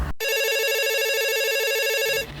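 A telephone at an operator's desk rings with a steady electronic trill, loud and close, lasting about two seconds before cutting off, with no voices.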